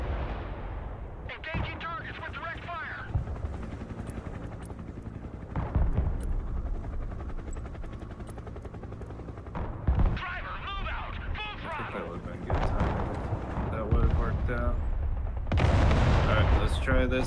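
Artillery fire in the video game Broken Arrow, repeated heavy booming blasts and rumbling explosions at irregular intervals, with gunfire and voices talking over the battle.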